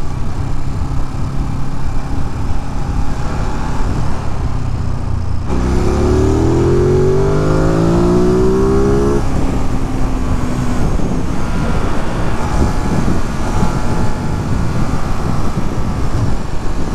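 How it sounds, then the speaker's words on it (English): A small sporty car drives past on a road in Ellenville, its engine rising in pitch as it accelerates close by and then fading under steady road and wind rumble. "That's like a sporty little car, ain't it?"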